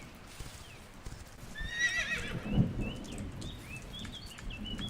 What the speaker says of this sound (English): Ten out of 10 horse sound.